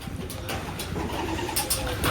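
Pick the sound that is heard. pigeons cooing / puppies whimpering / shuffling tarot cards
pigeons cooing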